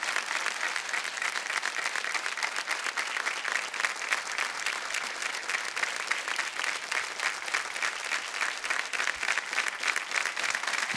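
Dense, sustained applause from a studio audience on the KBC India quiz show set, steady and full throughout with no pauses.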